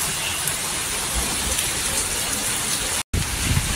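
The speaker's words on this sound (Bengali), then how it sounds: "আর বিশাল পরিমাণে বৃষ্টি হচ্ছে, বিশাল পরিমাণে" Heavy rain from a storm pours steadily with gusty wind, a dense, loud, unbroken roar of falling water with one momentary dropout.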